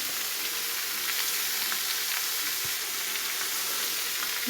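Vegetables for a pumpkin curry, seasoned with garlic, chili, turmeric and salt, sizzle steadily in a hot pan while being stirred, a close, continuous frying hiss with occasional scrapes and no talking.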